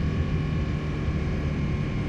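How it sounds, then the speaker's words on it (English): An Aprilia Tuono 1000 motorcycle engine drones steadily while being ridden, a continuous low, harmonic-rich hum with wind noise and no sharp rev changes, and no one speaking over it. "And now I've got to get these revs up"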